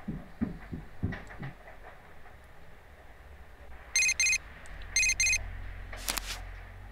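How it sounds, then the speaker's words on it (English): A phone text message alert in the video game Persona 4 Golden, ringing in two pairs of short electronic trills over a quiet background with soft low thumps and a few light clicks. "You received a text message."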